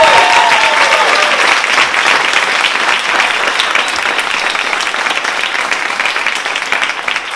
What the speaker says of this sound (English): Give this group of Unlikelies another big round of applause.